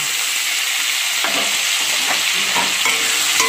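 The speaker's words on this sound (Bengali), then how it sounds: "দিয়ে ভালো করে একটু ভাজা ভাজা করে নিচ্ছি।" Chopped tomato and onion sizzling in a pan while a utensil stirs, giving occasional scraping knocks over the constant frying hiss.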